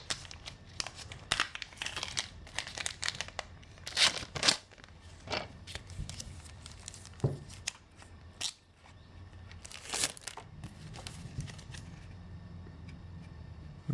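Plastic packaging from a Malifaux Guilty as Charged miniatures box is opened, with a string of sharp, close crinkles, snaps and tearing rustles in irregular bursts, then quieter handling; no talking.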